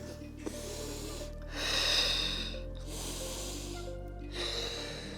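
A person breathes in and out during a morning Pilates exercise, drawing two long, audible breaths with a soft pause between them, heard close over quiet background music.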